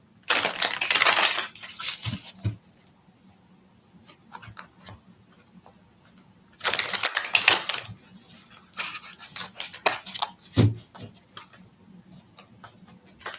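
Tarot cards shuffled by hand in fast riffling bursts with crisp papery clicks and snaps, two long loud runs separated by quieter handling sounds.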